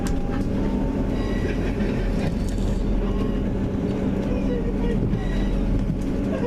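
A train pulls into Hull Paragon station with a loud, steady rumbling roar of wheels and carriage, a low drone and faint rattling clatter throughout, sustained at near distance.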